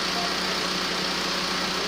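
An Audi A3 1.9 TDI diesel engine with late injection timing, hard starting and low power idles in a steady, unbroken drone, close and loud, with no talk over it.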